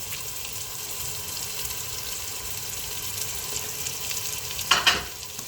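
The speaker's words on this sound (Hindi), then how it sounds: "जी ऑयल गर्म हो गया, अब प्याज डाल देंगे और साथ ही डाल देंगे नमक" Onions with salt and white cumin dropped into hot oil for an aloo gobhi curry, giving a steady soft sizzle and frying hiss that swells briefly near the end, with no speech.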